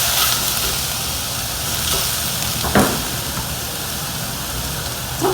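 Fresh tomatoes cook down in a pan for a no-salt sauce, a continuous soft sizzle and bubbling hiss with a few faint clicks of utensils, steady and close, with no talk.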